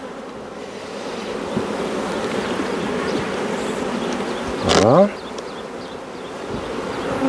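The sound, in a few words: honeybees buzzing at an opened hive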